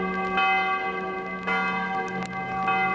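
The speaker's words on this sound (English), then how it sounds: "Oh, we got a bell tower." Church bell tower ringing in Switzerland, rich sustained tones with repeated strikes roughly every second, moderately distant and clear, no voices over it.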